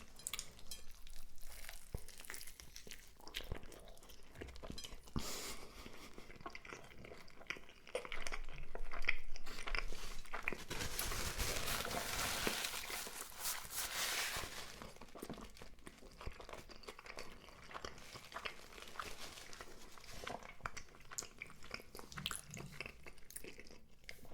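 Close, crisp biting and chewing of Five Guys burger and fries, with crunchy, crinkly mouth sounds and wrapper crinkles, loudest in a brief burst near the middle, with no talking.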